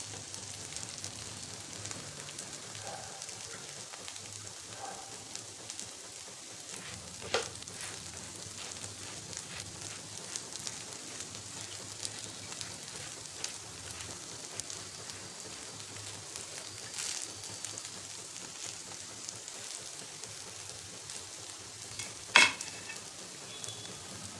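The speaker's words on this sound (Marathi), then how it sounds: "दोन तीन मिनिट असेच क्रिस्पी होईपर्यंत भाजून घ्यायचे" Sabudana vada pan-roasting in a little oil until crisp, a soft steady sizzle with faint stirring and a small clack near the end, fairly quiet and with no one talking.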